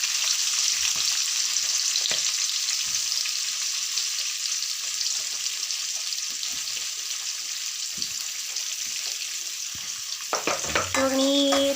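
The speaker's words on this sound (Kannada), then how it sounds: "ಇವಾಗ ನೀಟಾಗಿ ಫ್ರೈ ಮಾಡ್ತಾ ಇದ್ದೀನಿ." Onions and green chillies frying in a pan, a steady close sizzle with scraping stirs, running throughout, while a brief water splash and tap sounds break in near the end.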